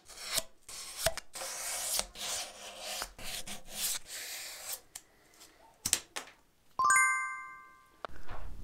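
Sanding a hand-carved wooden sleeping bear sculpture produces bursts of scratchy rubbing and rasping, followed by a few knocks and a ringing metallic tone near the end.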